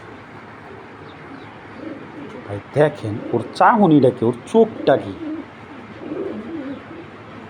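Pigeons coo softly in the background as someone talks over them, with a pale silver racing pigeon held close in a Bangladeshi loft.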